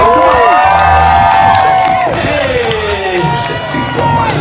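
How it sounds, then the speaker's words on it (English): A cruise-ship crowd cheers and whoops loudly and continuously during poolside games, with shouting voices rising and falling and a person talking over the din. "They're going to cheer you on."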